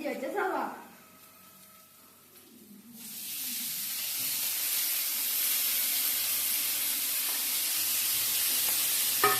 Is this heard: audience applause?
no